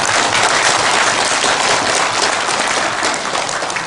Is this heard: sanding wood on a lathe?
no